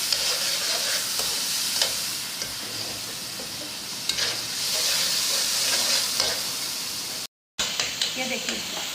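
Steady loud sizzling as tomatoes fry in a pan with occasional scraping stirs, continuous close up, briefly cutting out near the end.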